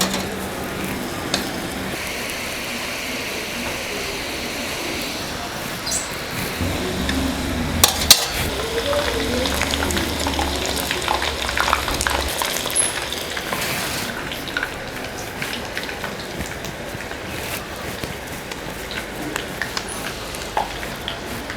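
Urad dal murukku deep frying in hot oil, a steady bubbling sizzle with faint stirring and occasional clinks of a utensil, no voices.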